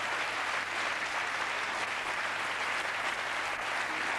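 Steady studio audience applause on a French TV show, an even and continuous roar of many hands clapping at moderate loudness with no breaks.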